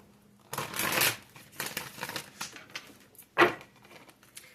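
Tarot cards are shuffled by hand in close bursts: a long riffling rush, several shorter shuffles, then a sharp slap of the deck, with no talking.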